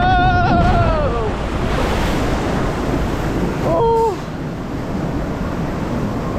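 The Colorado log flume boat at Flambards theme park in Cornwall splashes down into water with a loud, sustained rushing wash, while riders shout and whistle-like squeals rise above the surf.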